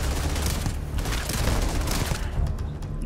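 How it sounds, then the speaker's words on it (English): Shotgun blasts in the video game Starfield, a dense run of loud booming shots packed close together over a steady backdrop of game noise, with no pauses between them. "We can try out my new shotgun."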